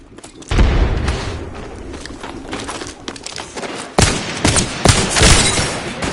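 A frag grenade booms in a video game firefight, with bursts of gunfire and further heavy blasts following in loud, dense succession up close.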